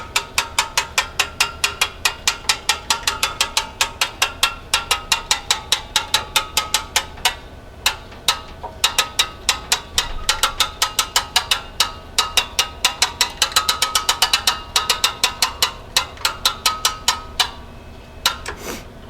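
A Genie lift crank turns clockwise slowly, giving a long run of close, evenly spaced metallic ratchet clicks with brief pauses between bursts.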